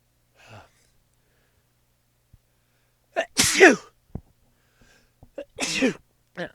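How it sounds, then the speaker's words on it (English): Two loud, close sneezes a couple of seconds apart, each with a sharp intake of breath first, set against near silence and a faint earlier sound. "I was feeling that sneeze coming on"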